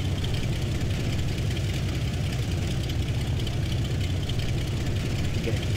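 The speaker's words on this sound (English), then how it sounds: "Let's just turn the engine off." A Menestrel HN-433 light aircraft engine idling at Brown Shutters Airfield, a steady, close, unbroken rumble with a throbbing low drone that holds even throughout with no voices.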